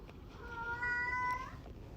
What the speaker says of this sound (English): excuse the cat in the background whining